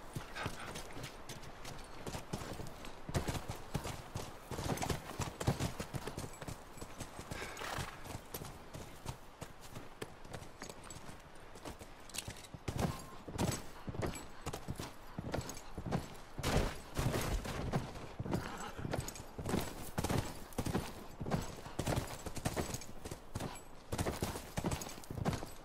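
Horse hooves clip-clop steadily on the ground in The Last of Us during a ride near a Wyoming ranch house, a continuous close rhythmic clatter with an occasional faint snort.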